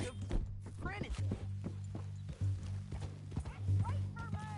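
Horse hooves clip-clop steadily in Red Dead Redemption 2 while a rider is carried tied up toward Saint Denis, the rhythmic footfalls running under a low music drone with intermittent voices talking over them.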